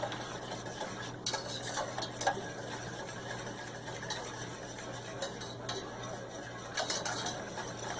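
Honey is stirred into General Tso's sauce, a quiet, continuous mixing with faint scraping and a few light clicks of a utensil against the bowl.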